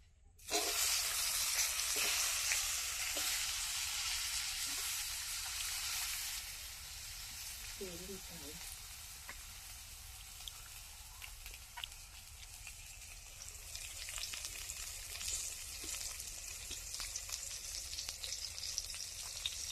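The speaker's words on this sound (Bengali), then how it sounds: "আর কটা বেগুন ভাজা করে নেবো।" Eggplant slices frying in a pan give a loud, continuous close sizzle and hiss throughout, briefly softening midway before flaring up again, with occasional faint stirring clicks.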